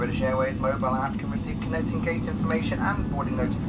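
A British Airways airliner taxis at London Heathrow, its engines a steady low rumble heard from inside the cabin beneath a person talking throughout.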